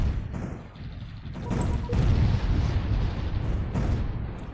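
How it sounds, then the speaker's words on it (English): Bombardment of a moon in the space strategy game Distant Worlds: a continuous rumbling barrage of deep explosions, dense and sustained with swelling bursts, heard alone. "Well, these guys bombard our moon."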